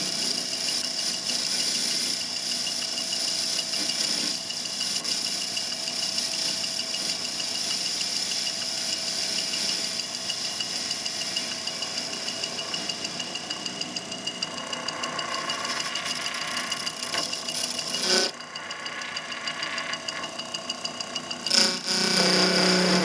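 A Boxford lathe turning case-hardened metal bolts runs with a steady, close machine drone and faint rattle throughout, with a brief change in tone near the end.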